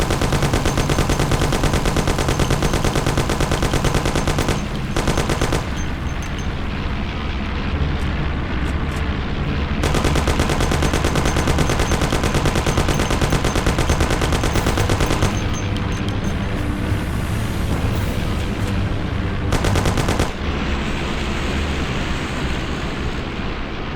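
Continuous loud gunfire in the Mafia: The City of Lost Heaven game, dense rapid shots layered over a droning engine, with brief drops in intensity before the firing resumes.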